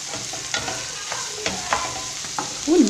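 Minced meat sizzling in a pan as a utensil breaks it up, with soft frying crackle and several scraping stirs at uneven intervals, close and moderately loud, no voices.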